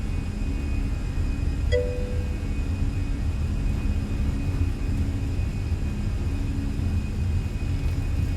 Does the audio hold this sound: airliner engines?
yes